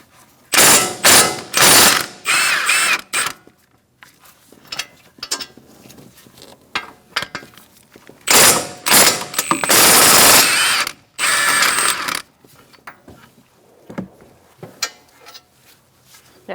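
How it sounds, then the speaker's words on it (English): A ratchet with an 18mm socket works loose the brake caliper bolts on a Ford Focus, giving loud close bursts of rapid clicking separated by quieter pauses and a few knocks. "Using an 18mm socket, we're going to remove our caliper."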